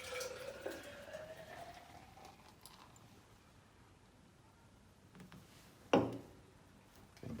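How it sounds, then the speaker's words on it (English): Kolsch beer poured hard into a tall, narrow stange glass: a faint liquid pour and fizz early on, then a sharp splashing burst partway through, quiet overall. "And let's get pouring."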